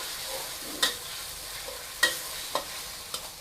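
Seasoning sauce with chili and garlic stir-fries in a pan, a steady close sizzle punctuated by several sharp scrapes and taps of a spatula against the metal.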